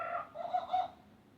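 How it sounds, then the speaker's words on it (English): A short jungle bird call, a few warbling, cooing tonal notes lasting just over a second, clear and alone with no talking. "You will know it is time to turn the page when you hear the jungle bird call,"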